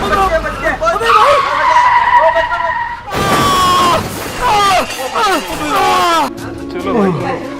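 A car skids with loud, wavering tire squeals during a road accident, and the engine rises and falls. Several people shout and talk excitedly the whole time.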